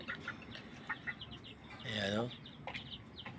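A female wild junglefowl gives soft, low clucks, faint and close, spread through a short stretch alongside a few brief calls and a quiet voice speaking.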